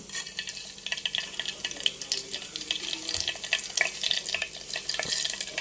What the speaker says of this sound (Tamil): இப்போ தேவையான அளவு எண்ணெய் ஊற்றிக்கிட்டு கடுகு, வெந்தயம் மட்டும் போட்டுக்கலாம்.